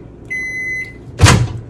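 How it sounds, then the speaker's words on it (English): Microwave oven beeping once with a steady, bright electronic tone for about half a second, followed moments later by a loud thunk of the oven door opening or closing, in a home kitchen. "Sorry, that was my microwave."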